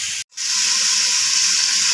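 Garlic, onion and ginger pastes hit hot oil with spices and burst into a loud, close, continuous sizzle right after a brief moment of silence.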